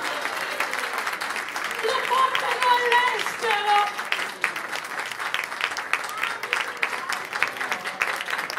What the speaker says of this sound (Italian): è in questo momento di fare il vero applauso